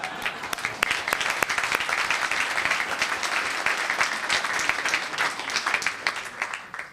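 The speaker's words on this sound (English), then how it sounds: "Round of applause." A room full of people at a town council meeting breaks into sustained applause, dense steady clapping close by that holds for several seconds before tapering off at the end.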